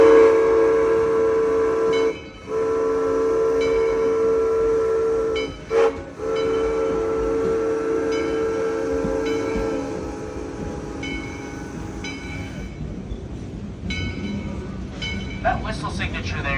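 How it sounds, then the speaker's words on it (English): A Yosemite Mountain Sugar Pine Railroad steam train sounds its whistle in long, loud blasts with brief breaks, hissing steam underneath, and the tone fades toward the end amid rumbling rail noise. "We're going to blast our whistle and ring the bell nice and loud as we roll through the crossing"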